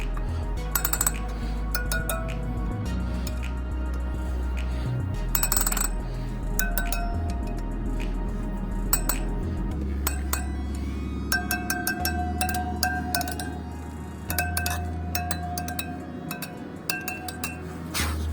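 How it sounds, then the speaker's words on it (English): Metallic clinks and scattered taps from tightening a spoke on a CSC RX3 motorcycle wheel, irregular and close, with bursts of ringing tones between quieter low rumbling stretches. "let me tighten this up a little bit"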